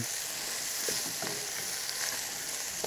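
Garlic, bacon, dried shrimp and shiitake mushrooms stir-fry in a pot, giving a steady loud sizzle with a few faint scrapes of stirring and no talking.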